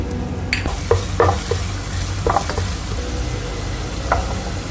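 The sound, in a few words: ginger frying in oil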